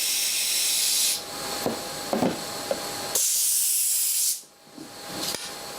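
Compressed air at 110 psi hisses loudly into a gas strut through a Schrader valve in steady bursts, cutting off and restarting, with a few small clicks and knocks between blasts.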